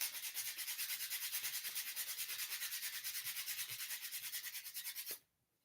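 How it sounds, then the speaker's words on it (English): Rapid, steady back-and-forth rasping of sandpaper on a wooden bunny craft sign, a close, even scrubbing rhythm that runs for about five seconds and then stops abruptly. "Am I going to have to sand that down even more?"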